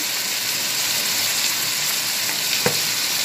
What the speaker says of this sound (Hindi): और इसमें फ्राई कर लूँगी मैं इसको